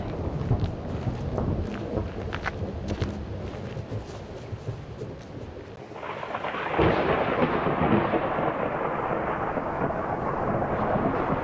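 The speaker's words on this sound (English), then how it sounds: "Plus, looks like rain." A thunderstorm with rain, a steady, dense roar of downpour and rolling thunder that swells louder partway through and keeps going to the end.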